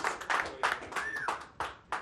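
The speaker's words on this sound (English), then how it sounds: "Let's give them both a round of applause." Audience applause for the final two players at a poker tournament in a casino, a short burst of clapping with several sharp peaks, fairly close, with a faint tone gliding through the middle.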